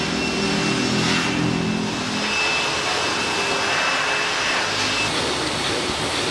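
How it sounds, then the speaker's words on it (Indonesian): A vacuum cleaner works over a very dusty car seat, a continuous close whine and rush that holds steady and loud throughout, with no voices. "Ini keadaan dari joknya berdebu sekali. Kita vakum dulu, belum kita sikat nanti."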